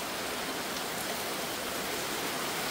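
Heavy rain pouring outside a house during a strong storm that floods it, a dense, even hiss of falling water with no pauses or voices.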